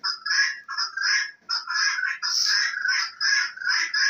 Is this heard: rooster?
yes